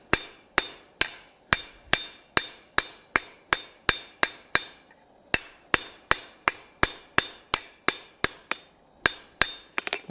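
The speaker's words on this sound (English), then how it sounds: "And we're going to rivet that straight down." A hammer drives a rivet down on an anvil while joining a forged hook tail spatula: about two dozen sharp, ringing metal blows land in a steady rhythm, close and loud, with one short pause and no talk.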